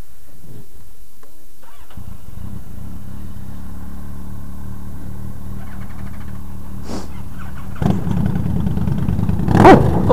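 Motorcycles idle and rev on a summer group ride to Matlock Bath, a steady engine drone rising to louder throttle blips near the end.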